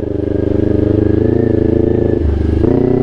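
Kawasaki Ninja 400 big bike engine running close and loud, a steady throbbing idle that dips briefly and then rises again as the throttle is blipped.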